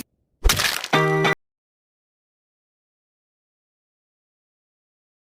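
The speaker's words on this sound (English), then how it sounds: "When you crack your neck..." Neck cracking sound effect: one short, sharp, crunchy crack burst, loud and close, followed by near silence.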